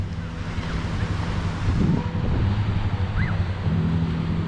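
Sea waves wash onto a shore at a river mouth, a steady roaring surf mixed with wind buffeting the microphone, with faint distant background sounds.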